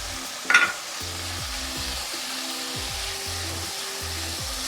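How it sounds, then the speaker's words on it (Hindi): Chicken frying in a pan with salt, dried coriander and cumin, giving a steady close sizzle with a short louder burst near the start and a low electric hum underneath. "इसको थोड़ा सा हम फ्राई कर लेंगे चिकन को"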